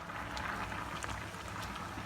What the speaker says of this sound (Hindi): जैसे 3-4 बॉयल आ गए हैं, इसको अब हम इसका चूल्हा बंद कर देंगे